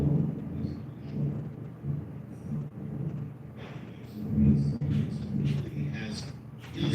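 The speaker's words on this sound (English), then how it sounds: "You hear that thunder?" Thunder rumbles low and steady through a storm with rain, a long rolling sound that swells in the middle.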